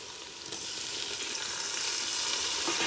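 Poha frying in a pan over a wood-fired clay stove as tomatoes are added, a steady close sizzle with a small burst near the start and quiet scraping as the mix is stirred.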